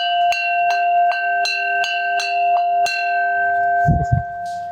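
A success bell at a coaching institute is rung about eight times in a steady rhythm, each bright strike ringing on with a sustained tone, followed by a brief rustle or thump at the end.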